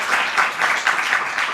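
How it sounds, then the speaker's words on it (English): Crowd applause at a plenary session of a conference, dense steady clapping from many hands filling the room, fairly loud and continuous with no voices over it. "this applause is for them as well"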